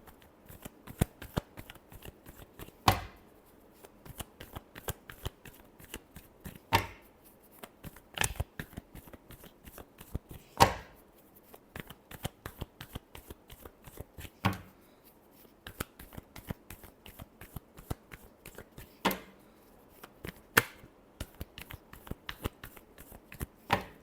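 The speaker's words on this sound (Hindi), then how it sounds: "Last shuffle." Tarot cards being shuffled by hand in repeated bursts, giving crisp riffling flutters that return every few seconds with sharp slaps between them, close and clear, with no talking.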